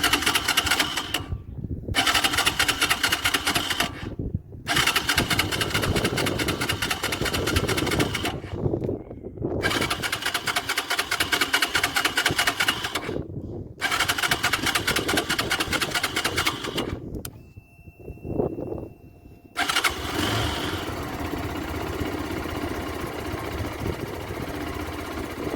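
A diesel car engine starts and idles after an oil change, a loud, steady rattling drone that breaks off abruptly several times before settling into a continuous idle.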